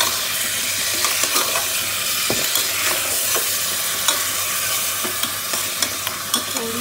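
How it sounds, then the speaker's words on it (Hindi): Beef bones with salt fry in a pan, a dense steady sizzle with scattered scraping and clicking as they are stirred, loud and close throughout. "नमक डाल दो, इसको मैं थोड़ा सा फ्राई कर लूंगी"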